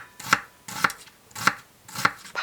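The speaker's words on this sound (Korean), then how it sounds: "먼저 남아있던 채소들을 잘게 썰어줍니다." Knife chopping leftover vegetables for shrimp fried rice on a cutting board: five crisp, evenly spaced chops in a steady rhythm, close and clear with no talk.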